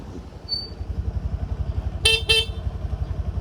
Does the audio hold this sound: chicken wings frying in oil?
no